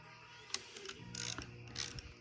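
A power seat motor in a 2004 Lincoln Town Car driver's seat grinds and ratchets in short mechanical bursts with clicks, close up and moderately quiet, during a seat motor replacement.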